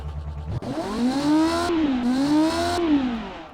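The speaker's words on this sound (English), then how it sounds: "that's quite the F1 sound right there" A 1962 ultralight monocoque F1 race car engine in a video game revs up and holds a high, smooth whine, pitch rising and dipping slightly across a couple of gear-like swells, loud and close, no talk.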